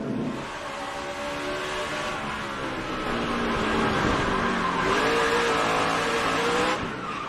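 In-car sound from a NASCAR stock car spinning out during the 2006 Food City 500: a loud, steady engine roar with squealing, skidding tires running throughout, no talking.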